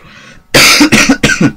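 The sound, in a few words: cough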